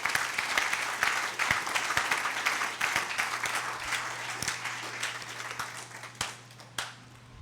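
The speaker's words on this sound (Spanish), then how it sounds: "¿Por qué no le da un aplauso al Señor?" Congregation at a church service claps and applauds for several seconds, a steady dense patter that thins toward the end with a few scattered claps, heard at a moderate distance with a low hum underneath.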